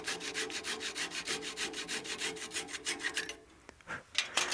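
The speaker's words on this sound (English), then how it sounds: "we can finish sawing that off with our saw" A hand saw rasping through a wooden whistle blank in a steady back-and-forth rhythm of strokes, close and loud, stopping near the end followed by a few handling sounds.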